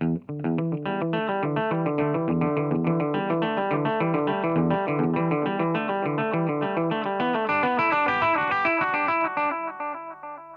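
An electric guitar plays steady notes through a Flashback delay pedal at longest delay time and maximum repeats, repeats stacking into a dense, saturated wash that trails off at the end.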